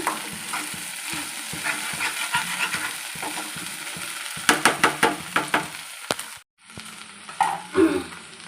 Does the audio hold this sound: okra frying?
yes